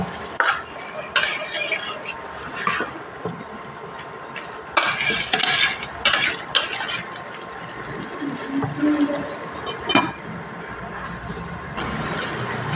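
A spoon scrapes and stirs mixed vegetables in a pan after a little water is added for a Bengali vegetable ghonto without onion or garlic, with intermittent clattering strokes over a soft simmer.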